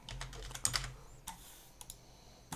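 Clicky computer keyboard typing in a short burst of several quick keystrokes, then a few isolated key presses, close and fairly quiet with no talk.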